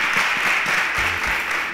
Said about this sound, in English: A round of applause for Sonia